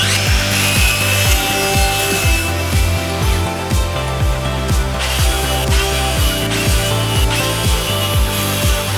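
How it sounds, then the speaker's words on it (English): A power saw cuts wood pieces, its loud motor whine dipping in pitch again and again as the blade bites through each cut, steady and close throughout. "First, I'll start by cutting the pieces I'll need for the edges."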